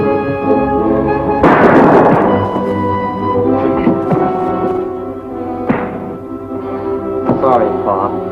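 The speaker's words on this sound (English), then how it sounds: "Shotgun!" Shotgun fire in a 1950s western TV series, a loud blast with ringing decay near the start followed by further thuds and bangs, all under shouted dialogue and a music score.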